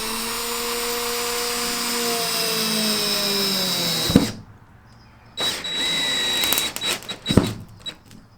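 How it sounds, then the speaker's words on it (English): A power drill bores through foam into a plywood van subfloor, a loud steady whine that winds down after about four seconds, followed by a second shorter burst and a few knocks. "I should be drilling straight into."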